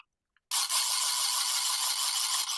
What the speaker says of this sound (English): And my grogger.